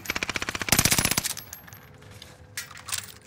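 Rapid automatic gunfire in the Warzone video game, a fast loud burst of evenly spaced shots that stops after about a second and a half, followed by quieter game ambience and a couple of faint later sounds.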